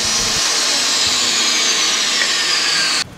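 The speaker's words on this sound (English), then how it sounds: "The Dewalt saw will make the 3 cuts in about 42 seconds." A DeWalt 10-inch tile saw cuts through tile with a loud, steady, broadband grinding roar that holds for about three seconds, then cuts off abruptly.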